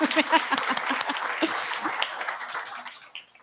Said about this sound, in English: Another round of applause for the panelists